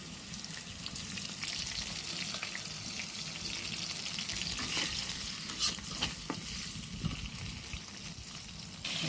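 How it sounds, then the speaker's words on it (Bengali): Green chillies and prawns fry in hot oil with a pinch of salt, a steady close sizzle with stirring clatter and occasional louder pops throughout, no talking. "এবার তেলের ভিতরে কাঁচামরিচ আর চিংড়ি মাছ দিয়ে দিলাম, সাথে একটু লবণ।"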